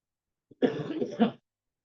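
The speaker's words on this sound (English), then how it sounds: "I don't mean to cough into the mic" A single short, harsh cough close to the microphone, preceded by a tiny catch of breath, then silence.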